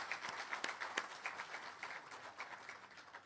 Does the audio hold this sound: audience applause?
yes